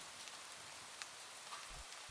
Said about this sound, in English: As you can hear in the background, rain and thunder will be played to help you feel peaceful and relaxed.